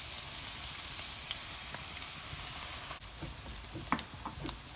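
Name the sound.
minced garlic frying in oil over low heat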